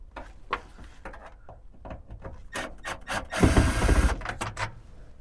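Tools work a screw loose on a junked car in a salvage yard, giving scraping, clicking mechanical sounds that swell to a louder grinding burst midway, with no talking.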